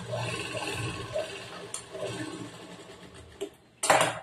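A sewing machine stitches the edge of churidar pants in short runs, a fast mechanical whir that stops and starts, ending in a brief louder burst of close clatter.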